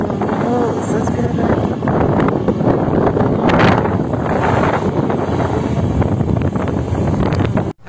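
A boat moving on the Bhagirathi river, heard as a steady broad rush of water and heavy wind buffeting the microphone, fairly loud and continuous with faint voices in the background.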